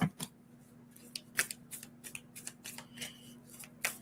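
A deck of oracle cards is shuffled by hand, giving soft riffling swishes and light papery taps in an uneven rhythm, close and quiet over a low hum.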